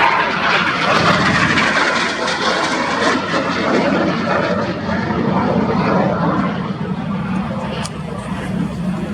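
Red Arrows jet aircraft roar through a display manoeuvre at an air show, a broad sustained rumble with a commentator talking over it on the public address.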